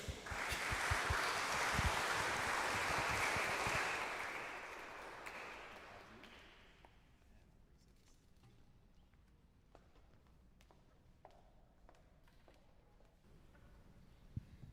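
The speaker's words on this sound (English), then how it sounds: "Please give a warm round of applause to Sarah Manasrah," Audience applause inside St. James Cathedral in downtown Chicago before a chamber concert, a dense steady clapping that fades out over several seconds into quiet rustling and scattered small noises in the reverberant space.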